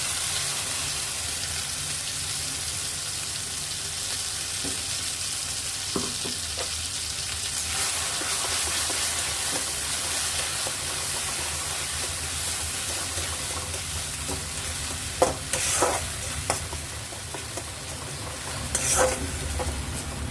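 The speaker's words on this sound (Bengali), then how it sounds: "এবার মশলাটা তেলের মধ্যে দিয়ে দেব।" Ground spice paste frying in hot oil, a continuous loud sizzle with scraping stirs and a few sharper clinks toward the end, no voices.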